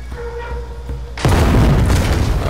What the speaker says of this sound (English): Fire the cannon.